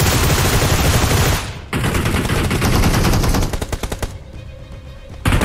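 Rapid automatic gunfire in the mobile battle royale game PUBG Mobile, loud dense bursts of shots with a brief gap and a final burst, close and continuous with no talk.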